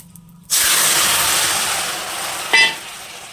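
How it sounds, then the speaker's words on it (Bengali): Whole spices drop into hot oil to temper a curry, setting off a sudden loud hissing spray that slowly fades, followed by a second brief burst of sizzle. "এবার আমি এই তরকারিটা সম্বর দিয়ে দেবো ফোড়ন যাকে বলে"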